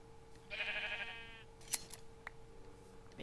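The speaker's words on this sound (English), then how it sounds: "Hey, sheepy." A single sheep in the game Life in the Woods: Renaissance gives a clear, wavering bleat lasting about a second over a quiet hum, followed by a few faint clicks.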